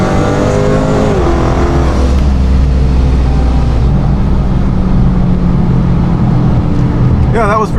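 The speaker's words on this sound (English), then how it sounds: "I was only at like part throttle, and then I saw that he was actually racing, so then I went back to full throttle" A 426 Hemi car accelerates at full throttle while racing an Audi, with a loud, constant engine roar that rises in pitch as it pulls through the gears, heard from inside the car with a voice speaking over it.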